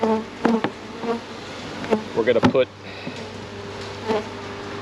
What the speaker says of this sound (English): Now the bees are ready to come out.